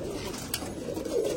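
Pigeons coo steadily and fairly close, a continuous low warbling murmur with a brief sharp noise near the middle and no talking.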